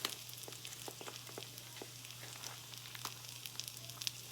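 Chopped onions sizzle in a hot pan before ground beef goes in, a steady quiet frying hiss with faint scattered crackles and light utensil clicks, no talking.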